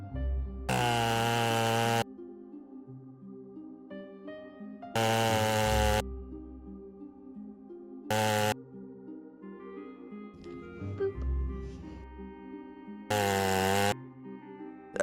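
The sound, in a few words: chainsaw shield glory kill in DOOM: The Dark Ages video game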